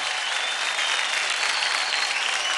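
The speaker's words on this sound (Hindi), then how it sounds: "जोरदार तालियां हो जाए सनम और वैभव के लिए।" A studio audience at a televised dance competition gives Sanam and Vaibhav sustained, dense applause, a steady wash of many hands clapping with crowd cheer throughout.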